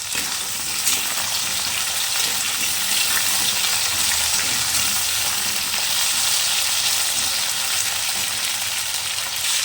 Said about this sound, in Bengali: এরপর একসঙ্গে নাড়াচাড়া করবো সমস্ত ভেজিটেবিলগুলো এটা জাস্ট একটু ভাজা হয়ে গেলে